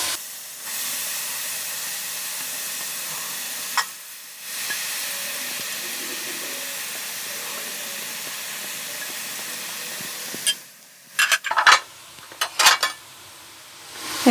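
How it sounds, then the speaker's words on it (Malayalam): Carrots sizzle in hot ghee for carrot halwa, a steady close hiss lasting several seconds that briefly drops out, then gives way near the end to a few clattering stirs in the pan. "നെയ്യ് ചൂടായി നമുക്കതിലേക്ക് ഈ ക്യാരറ്റ് കുറച്ചായിട്ട് ഇട്ട് കൊടുക്കാം."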